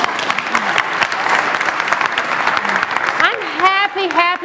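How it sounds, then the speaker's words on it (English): An audience breaks into steady applause at a talk, the dense clapping filling most of the moment, with a speaker's voice rising over it near the end. "that would be an amazing place to clap."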